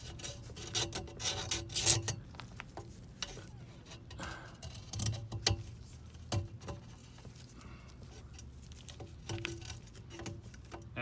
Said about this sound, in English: And now we're just taking a bit of the burr off with the file here.